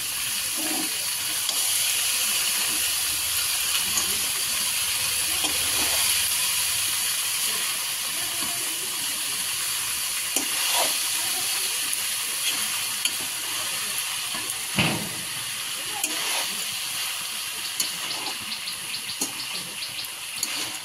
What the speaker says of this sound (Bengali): এবারে মশলাটাকেও একটু মশলার মধ্যে কষিয়ে নেওয়া হবে।